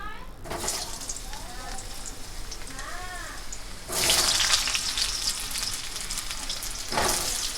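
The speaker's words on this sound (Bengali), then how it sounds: "এবার আমরা আলুগুলোকে লাল করে ভেজে নেব" Potatoes fry in hot oil, giving a steady sizzle with bursts of louder crackling and some stirring. A voice is briefly audible in the background.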